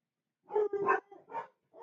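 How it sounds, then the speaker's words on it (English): Dogs bark indoors in a short burst of three or four yapping barks with brief gaps, moderately close and alone with no talk. "Sorry for the dogs, guys."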